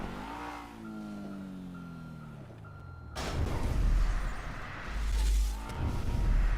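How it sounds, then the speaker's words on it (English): A car in GTA accelerating at full throttle toward a jump: a rising engine whine at first, then a loud, rough roar of hard acceleration that surges and holds to the end. "The moment you see it, then give full gas to take the jump as quickly as possible."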